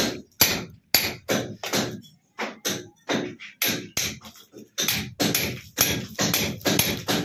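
A house wall being broken open with hammer and chisel to cut channels for conduit pipe wiring, a rapid, irregular series of sharp close knocks and thuds with brief gaps between blows.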